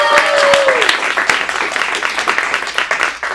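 Audience applause at an adult acting studio showcase in Phoenix, a dense steady wash of clapping with a few cheers and brief voices mixed in, loud and sustained throughout.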